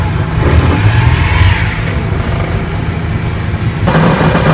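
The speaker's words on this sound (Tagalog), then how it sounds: "So start natin yung sasakyan." A car engine runs loud and steady under the hood during a check for high fuel consumption, with a low rumble throughout and a brief rise near the end, no talk over it.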